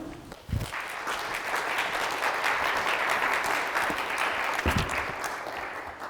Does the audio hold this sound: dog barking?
no